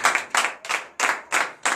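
Congregation at a morning prayer service in Benin clapping in unison, six sharp rhythmic bursts evenly spaced, close and loud with no talk.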